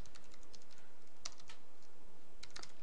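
Quick bursts of keystrokes on a computer keyboard while entering C++ code, close and quiet, with short pauses between clusters of clicks and no talking.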